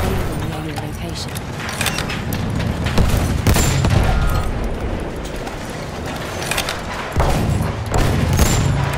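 Bursts of machine gun fire and booming shots rattle through a Battlefield 1 battle, loud and dense with irregular volleys, while voices shout over the fighting.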